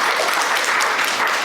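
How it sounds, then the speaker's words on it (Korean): A church congregation applauds to welcome a newcomer during a worship service, a dense, even burst of many hands clapping together at full strength. "우리 박수로 환영하겠습니다."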